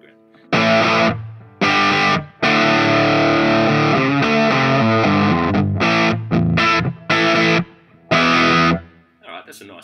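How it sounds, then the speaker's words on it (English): An electric guitar played through a Line6 Helix with a Marshall-style preset and reverb rings out in loud distorted chords and stopped bursts, each tail decaying into space. "that's a nice reverb"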